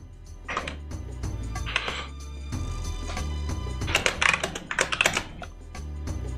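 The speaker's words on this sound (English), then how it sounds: "work on the noise gating of my mic, if I can pick up the keyboard" Loud keyboard converted to USB typed on in bursts with short pauses between them, a dense clatter of keystrokes that grows busiest near the end, heard close with no talking.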